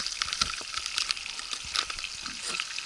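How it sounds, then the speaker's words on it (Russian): Liver frying in plenty of oil in a pan, a steady close crackling sizzle with small pops throughout, no voices. "Так, вот жарится наша печень. Масло там побольше у нас добавлено."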